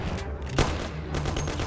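A short burst of weapon fire in the game Mafia: one sharp, loud report followed by a softer rattle of sound over steady background noise.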